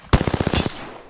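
A rapid burst of about nine close, loud automatic gunshots from a gun in Apex Legends, evenly spaced, then cut off abruptly with a short fading tail and no talking.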